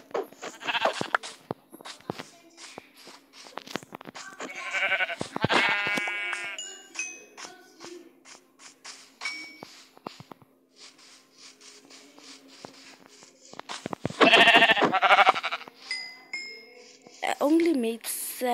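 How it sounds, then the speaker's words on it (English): Sheep in the Minecraft video game give several short bleats in bursts, some close and loud, spread over game clicks and shuffling, with a voice talking in between. "Oh, there's so much sheep."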